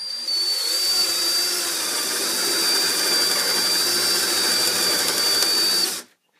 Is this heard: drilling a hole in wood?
yes